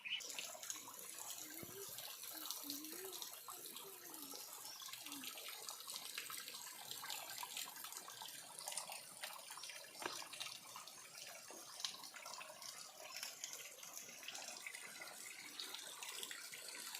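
Water from a waterfall in Himachal rushes steadily, a continuous faint hiss of flowing water with no voices.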